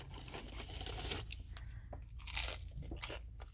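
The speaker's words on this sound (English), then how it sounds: "They're very, very crispy." Close, crisp crunching and biting into spicy McChicken nuggets, a steady run of sharp crackly bites and chewing without talk.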